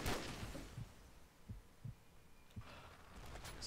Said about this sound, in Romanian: Să controlez bătăile inimii și respirația,